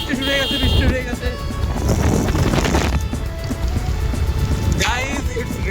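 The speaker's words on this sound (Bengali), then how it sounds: "Guys, it's raining heavily." Heavy rain falling during an outdoor ride, heard as a dense, continuous hiss with wind buffeting the microphone, while people talk over it and a passing vehicle rumbles close by.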